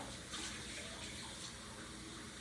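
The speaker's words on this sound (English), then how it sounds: "I'm gonna give this a rinse because these dishes haven't been used." Water running steadily from a tap to rinse unused baking dishes in a kitchen, a continuous, fairly loud splashing rush with no talking.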